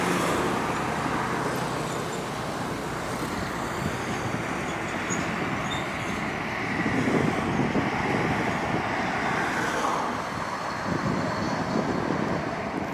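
Road traffic flows along a toll road during the holiday exodus, a steady roar of passing vehicles with one louder pass in the middle.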